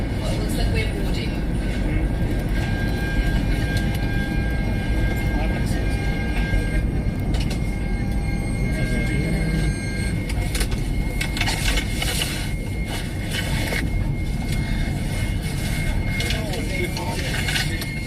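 Steady, loud cabin drone of an airliner in flight toward Venezuela, a continuous low roar filling the whole stretch with faint voices murmuring beneath it.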